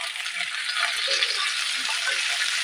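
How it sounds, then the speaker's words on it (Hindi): Chopped onions and bell peppers frying in a pan in a home kitchen, a steady bright sizzle with faint rattling and stirring underneath, continuous and fairly close. "ऐसे हम फ्राई कर लेंगे 2 मिनट तक।"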